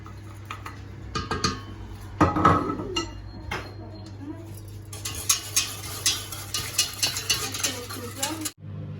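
Sugar and cornstarch sauce stirred in a pot, a spoon scraping and tapping against the pot in a steady rhythm of light knocks, close, with a louder clatter near the start.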